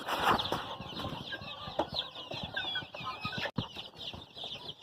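About a hundred Tiger-breed chickens on a small farm, some hens brooding, cluck and chatter up close with occasional wing flaps and a sharp squawk.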